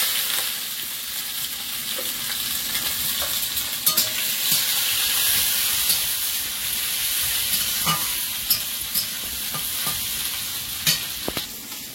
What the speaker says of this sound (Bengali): এদিকে তেল গরম হয়ে গেছে, গোটা গরম মশলা, তেজপাতা, জল ছিল তেজপাতা, একটু গোটা জিরে, গোটা গোলমরিচ, এবারে পেঁয়াজ কুচি দেবো।